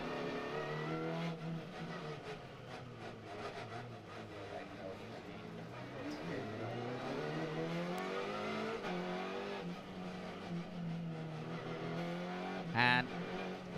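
Race cars warming their tyres on the Macau street circuit, with a steady engine drone that rises and falls as the cars weave, and commentary running over it throughout.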